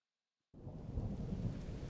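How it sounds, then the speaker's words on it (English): After a moment of silence, rain in Zelda: Tears of the Kingdom suddenly starts pouring with a low rumbling wash, steady and fairly soft. "Oh, it's raining."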